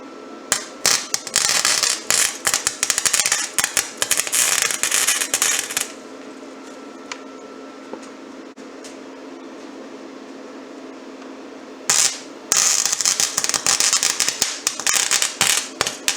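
Welding a small bead between two nuts on a 1969 VW Beetle snubber gives two bursts of dense, close crackling and spitting, separated by several seconds of steady low hum.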